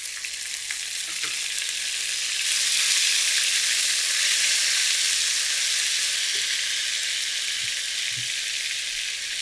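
Ginger garlic paste frying in hot oil with cardamom, cinnamon and a bay leaf, a loud, continuous hiss and sizzle that swells partway through, with a few faint clinks of stirring.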